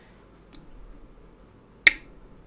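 A GEC slip joint pocket knife blade snaps shut with a single sharp, close click, preceded by a faint lighter tick, in an otherwise quiet setting.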